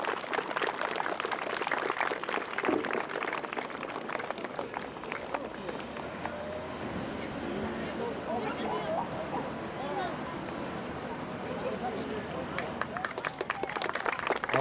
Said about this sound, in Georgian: აპლოდისმენტები ამ ბიჭებს ნამდვილად